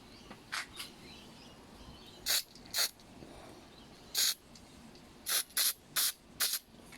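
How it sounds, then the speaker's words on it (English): Short, sharp blasts of compressed air hiss in irregular bursts, around nine quick sprays close by through a backpack leaf blower's carburetor during a rebuild, against a quiet background. "just spray that using compressed air"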